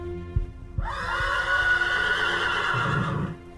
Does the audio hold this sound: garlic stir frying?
no